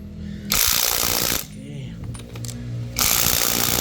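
A Bosch GDX 18V-285 cordless impact wrench rattles loudly in two bursts while tightening lug nuts on a Toyota tire, with a brief quieter stretch between them where a voice speaks over background noise.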